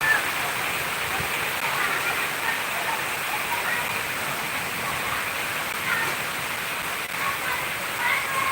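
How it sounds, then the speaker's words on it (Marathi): A dense, unbroken roar of very heavy cyclone rain pours steadily throughout, loud and close with no voices. "खूप मोठा पाऊस आहे"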